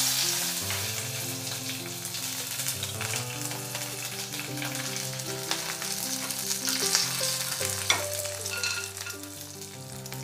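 Cumin seeds and chili pieces fry in a spoonful of pure ghee for tempering, a close, continuous crackling sizzle with soft music underneath and no voices.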